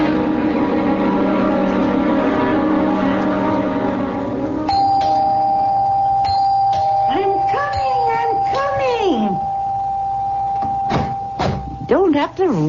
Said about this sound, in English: Don't have to rip the bell off the door, young man.